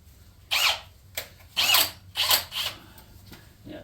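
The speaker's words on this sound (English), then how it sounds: "This is a genuine Time-sert core drill, and it's been modified to have 3 flats on it." A genuine Time-sert core drill, modified with three flats, cuts into a damaged head bolt thread on a Chevy LS engine block in short, close, grinding bursts separated by brief pauses.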